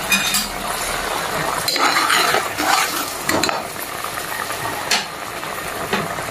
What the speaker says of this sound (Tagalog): kumukulo na yung ating gata